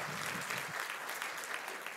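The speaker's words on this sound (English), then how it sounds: "An applause for Max." Audience applause at a panel discussion at an economics think-tank anniversary event, steady and dense clapping from a seated crowd throughout, fairly close and even in level.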